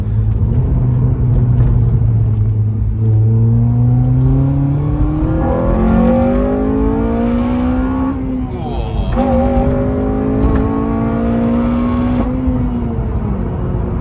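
Tuned Honda Civic FN2 Type R engine revving hard, loud and close, its pitch climbing through repeated pulls with a brief dip between gears and a raspy, rising exhaust note from start to finish.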